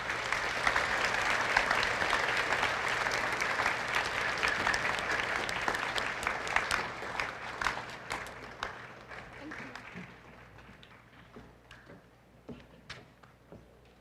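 An audience at a high school class day applauds for students, a dense sustained round of clapping that thins into scattered claps and fades toward the end.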